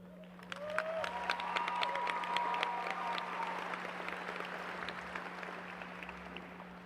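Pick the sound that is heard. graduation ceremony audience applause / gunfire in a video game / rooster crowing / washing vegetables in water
graduation ceremony audience applause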